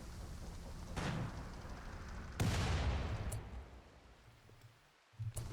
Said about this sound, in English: Sounds like a normal cannon when it fires